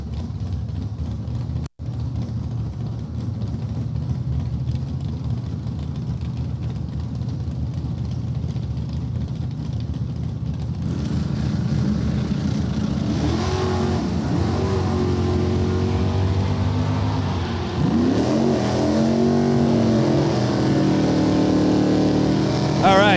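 Drag racing launch with a 2013 Mustang at a JEGS event: a steady, heavy engine roar that deepens and swells midway into rising, shifting engine tones as the cars run the strip, with a commentator talking over it throughout.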